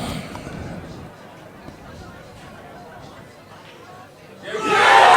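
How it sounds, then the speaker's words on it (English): Spectators at a snooker match react as a frame is decided. Soft murmuring and scattered voices swell into a loud burst of applause and cheering near the end. "And you'll hear the crowd."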